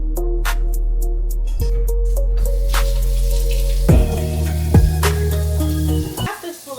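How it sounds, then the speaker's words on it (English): Cooking oil heats in a pot before rice goes in, giving a steady sizzle under kitchen clatter, with sharp clinks of metal utensils and a few bumps of pots throughout. "I'm just gonna wash it while my oil is heating up in the pot."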